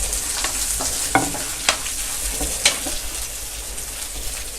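Ingredients with curry leaves frying in a pan until golden, a close, steady sizzle punctuated by a handful of sharp spatula scrapes and taps while stirring, with no voices.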